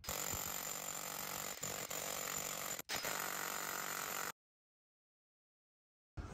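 A drill bores a hole through a wall for a Daikin dual-zone ductless mini split: loud, continuous grinding for about four seconds with a few brief dips, then abrupt silence before it starts again right at the end.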